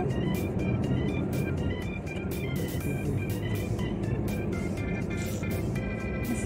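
A car passes on an empty road during a total lockdown in Malaysia, a loud steady engine and tyre roar from start to finish.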